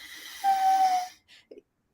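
A voice imitates a child's expiratory wheeze: a thin, whistling, strained breath out lasting about half a second, followed by a couple of brief breathy puffs, close and fairly quiet.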